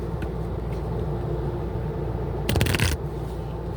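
Tarot cards are shuffled once in a quick, rustling riffle lasting under half a second, heard close over a low, steady background hum.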